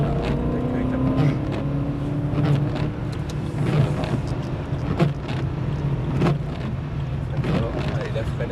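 A BMW M3 E92 drives hard and brakes, with a droning engine under gusty wind buffeting and a voice talking over it.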